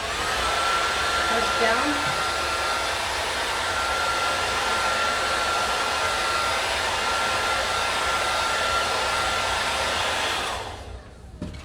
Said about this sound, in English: You're going to get the blow dryer, you're going to turn it on again